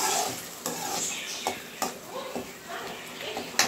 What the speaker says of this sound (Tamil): நல்லா வதக்கிட்டேன், நல்லா வதங்கணும்.